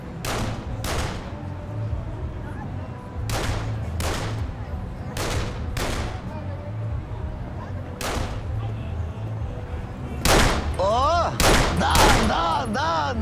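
Celebratory gunfire at a wedding, a series of sharp loud gunshots in uneven bursts, some in quick succession, over steady crowd noise, with people talking and laughing in between.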